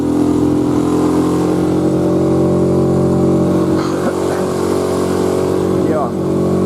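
Outboard motor on a small boat on a taiga river, its propeller fouled with debris so it won't gain revs, drones steadily and loudly throughout with a voice talking over it.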